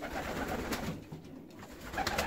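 Domestic pigeons coo softly and continuously in a loft, a low, murmuring, fairly quiet chorus with a brief lull midway.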